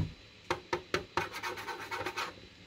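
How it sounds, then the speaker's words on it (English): Fingernail scratching the cheap, thin plastic casing of a Huawei 5G CPE Pro router: several sharp raspy strokes, then a quicker cluster of scrapes, close and fairly quiet. "It's the real nasty plastic that you're thinking of, and hopefully you can identify by that sound."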